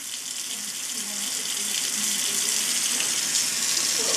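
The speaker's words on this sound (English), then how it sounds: "That's a lot of water still." Water runs steadily from a kitchen faucet in a continuous broadband hiss, close and fairly loud, holding without pause or fading for the whole stretch.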